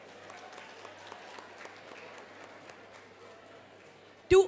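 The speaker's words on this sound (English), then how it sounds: "Can we have a huge round of applause for them?" Steady, moderate applause from a colloquium audience thanking the event's organizing office, an even patter of clapping with a sharp loud burst at the very end.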